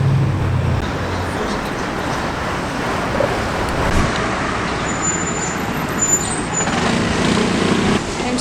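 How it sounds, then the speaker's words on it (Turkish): Continuous road traffic rumbles past on a busy street in Balat, Istanbul, with vehicles passing in a steady wash and a faint high squeal now and then. "çok fazla araba geçiyor"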